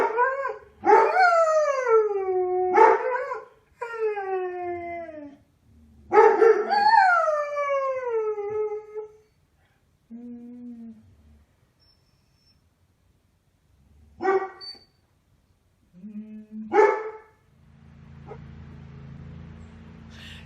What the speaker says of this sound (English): Maisie goes and runs and barks at the front door, and Pearl responds.